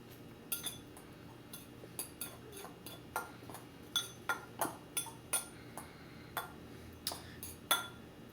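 A fork clinks repeatedly against a dish while mixing food for eggplant parmesan, a quick, irregular series of sharp metallic taps close by, with no talking.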